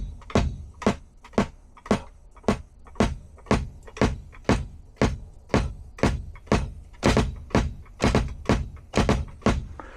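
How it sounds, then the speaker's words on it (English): A kick drum on a Donner DED-500 electronic drum kit thumps in a steady series of about twenty-five deep, punchy beats, some in quick doubles, heard alone with no talking. "and then I have the kick."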